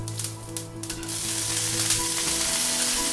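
Curry leaves, broken by hand, crackle and sizzle in hot oil on a stovetop, a steady loud fry that builds after a few sharp pops, with no talking.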